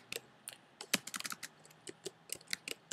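A computer keyboard is typed on up close while code is written in Xcode, producing quick, irregular clusters of crisp key clicks with brief gaps between them.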